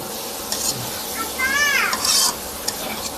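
Jackfruit fries in a pan, giving a close, steady sizzle with a few scrapes and clinks of a spoon stirring against the pan, and no one talks over it.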